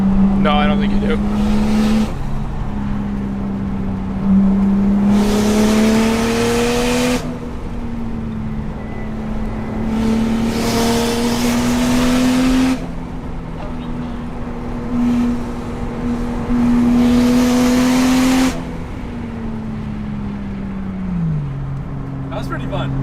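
A Toyota Chaser race car pushed hard on a mountain touge road, its engine loud and close, climbing through revs and dropping at repeated gear shifts.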